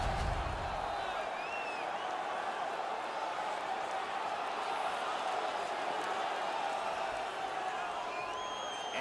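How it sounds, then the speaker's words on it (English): In NHL 19 franchise mode, the home hockey crowd roars in a steady, dense wash of cheering after a fight ends, loud and continuous with no break. "The home crowd is ecstatic."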